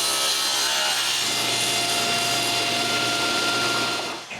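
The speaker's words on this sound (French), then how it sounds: "Pour être sûr que les côtés et les tablettes fixes ont la même longueur, je les coupe ensemble." A hand or power saw cuts through the stacked wooden side panels and fixed shelves of a bookshelf together, a steady, dense rasping close up and loud, with no speech.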